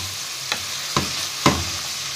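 Chopped onion sautéing in butter in a pan, a steady soft sizzle with three short stirring scrapes spaced about half a second apart, close and alone.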